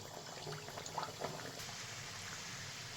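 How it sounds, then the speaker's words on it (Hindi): Shaped samosas slide into hot frying oil and set off a soft, steady sizzle and bubbling, fairly quiet and close, with a few brief splashes near the start. "हम समोसे को तेल में डालेंगे"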